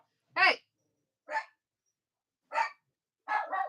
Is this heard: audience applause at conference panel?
no